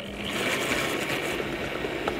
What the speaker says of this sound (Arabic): احطه في الخلاط، افرمه جامد جدا